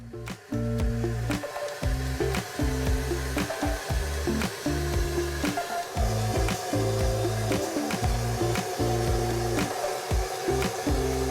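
A wet blasting machine blasts a part with ceramic bead, giving a loud rushing hiss broken by rapid on-off bursts and rumbling pulses as the spray is triggered repeatedly.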